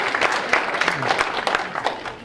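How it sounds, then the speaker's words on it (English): Audience applause at a lecture on collections, technology and sense of place, a steady wash of clapping hands filling the room for a couple of seconds, with some crowd murmur mixed in. "can we give them a round of applause?"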